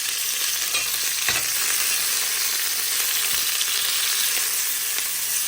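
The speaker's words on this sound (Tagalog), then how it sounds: "Lalagyan pa natin mga kababayan sibuyas," Onion frying in a little oil for pork linaga, a loud continuous sizzle with a couple of faint knocks from the pan.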